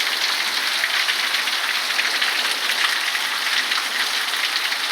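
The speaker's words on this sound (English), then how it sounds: "Boy, look at the rain." Heavy rain pours steadily on surfaces outdoors during a storm, a dense, loud, continuous hiss with scattered drop impacts and no talking.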